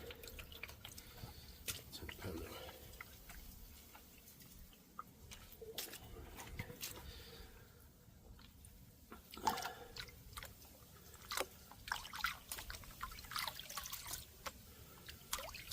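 Water sloshes and trickles through sand in a gold pan during prospecting in East Anglia, close and soft, with intermittent splashes and drips as the pan is lifted, while a person talks quietly at times.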